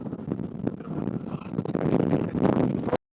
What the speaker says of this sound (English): Yeah, it's very windy. Very windy.